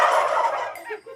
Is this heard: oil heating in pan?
no